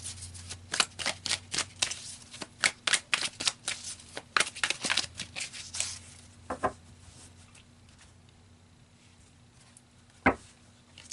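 Tarot cards are shuffled in a quick run of crisp, riffling snaps, close and fairly quiet, then slow to a few scattered slaps and a final card tap.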